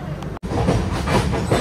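A moving passenger train heading to the Konkan region rumbles steadily along the rails, a loud, continuous rolling roar heard from inside the carriage with a momentary dropout before resuming.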